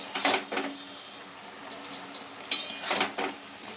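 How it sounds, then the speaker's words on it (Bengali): Spinach and mixed vegetables are stirred in a pan once the lid comes off, Bengali style, with bursts of metal spatula scraping and clinking in two clusters and a quieter gap between them. "এবার আমি ঢাকনাটা খুলেছি ভালো করে আমি নেড়ে নেবো"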